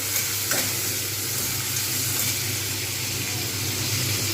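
Shrimp and vegetables, with bottle gourd greens, fry together in a pan with a dense, steady sizzle and hiss, close up and continuous, with faint stirring movement and no talking.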